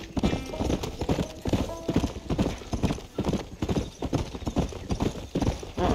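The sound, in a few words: horse hooves galloping in video game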